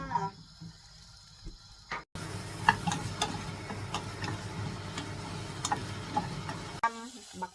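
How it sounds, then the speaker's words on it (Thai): Eggplant, chili, shallot and garlic being stir-fried in a pan: a steady sizzling hiss with scattered ticks and scrapes of the spatula, close and continuous for several seconds between quieter moments at start and end. "เฮากับซิมาขั่วบักเขือเขือพริกหอมแดงกระเทียมจ้า"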